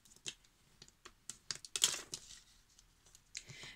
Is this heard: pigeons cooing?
no